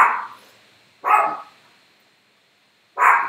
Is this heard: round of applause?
no